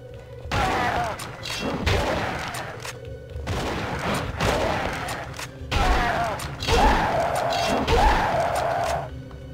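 Gunfire in The Mummy video game, with several loud bursts of shots and thuds arriving in clusters over a steady game soundscape, with no talking heard.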